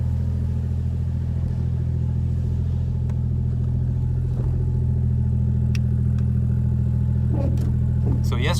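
A Fox body Mustang with a swapped-in Toyota 1JZ VVTI engine cruising, a steady low engine drone and road rumble from inside the car, with faint voices and a few clicks over the hum.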